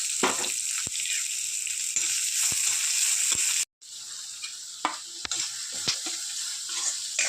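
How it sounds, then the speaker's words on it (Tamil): Dried red chillies and a handful of onion sautéing in a pan for poriyal, a steady close sizzle with occasional spoon scrapes and stirring clicks, briefly cutting out for a moment midway. "காஞ்ச மிளகாய் போட்டுக்கிறேன் ஒரு கைப்பிடி வெங்காயம் போட்டுக்கிறேன் எல்லாம் வதங்கட்டும்"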